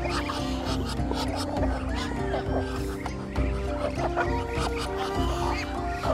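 A flock of farm ducks quacks and calls in a dense, overlapping chorus, loud and close, continuous throughout with no pauses.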